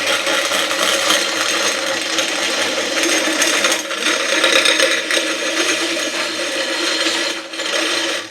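A steel winch cable pays off its drum with the free spool released, giving a steady close-up rattling, ratcheting whir that runs unbroken for several seconds with no voices.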